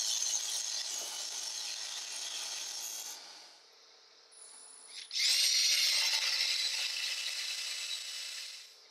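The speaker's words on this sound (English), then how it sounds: "I bore out the center for the bearing." Power drill boring out the center of a wooden fidget spinner body to seat a bearing, loud and steady grinding with a brief pause midway before the cut resumes, no talking.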